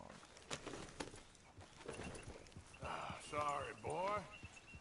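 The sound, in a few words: horse hooves clip-clop in video game Red Dead Redemption 2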